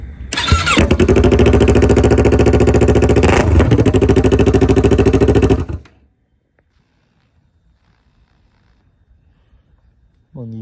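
A motorcycle with a loud aftermarket exhaust pipe, in Japan, fires up and roars at close range for about five seconds before cutting off abruptly into near silence, with a brief noise at the end.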